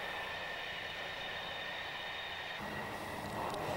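A TGV high-speed electric train running on rails, a constant rushing roar with tonal whine, captured at moderate level and shifting slightly in character near the end, with no voices.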